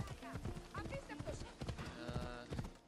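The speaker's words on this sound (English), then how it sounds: "Yeah, horse." Horse hooves clip-clop in an ancient Greek open-world game, a few quick uneven hoofbeats mixed in with game music and ambient sound while someone talks over them.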